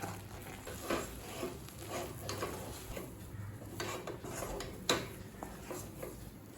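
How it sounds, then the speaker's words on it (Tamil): Roasted rice flour being stirred into a pan of water on the stove while making kozhukattai, a steady scraping and rubbing with occasional spoon knocks against the pan, close and moderately quiet with no talk. "இப்போ வறுத்து வச்சுருக்க மாவை கொஞ்சம் கொஞ்சமாக இதில் சேர்த்துக்கலாம். கட்டி இல்லாமல் நல்லா கிளறிக்கோங்க."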